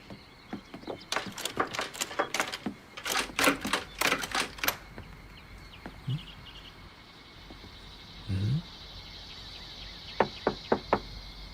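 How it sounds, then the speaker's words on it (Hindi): Knuckles rap on a door in quick clustered bursts of several sharp knocks, close and crisp, then a pause with faint rustling before a final short series of lighter taps. "Knock knock."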